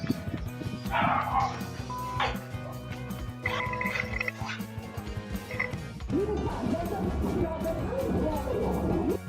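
A dog barks several times amid a busy, cluttered background of other noise, with the barks moderately loud and irregularly spaced.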